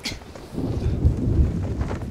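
Thunder rolls low and heavy during a storm at sea in Sea of Thieves, a loud, rumbling swell with rain hissing underneath over about two seconds.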